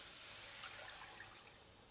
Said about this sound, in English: Add in 500 milliliters of water